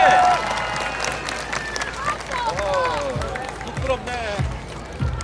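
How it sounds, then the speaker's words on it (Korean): Applause and cheering from a street crowd at the Cheonan Heungtaryeong festival parade, dense clapping with whistles and chatter, while a loud announcer speaks over it. "다시 한번 큰 박수를 부탁드립니다."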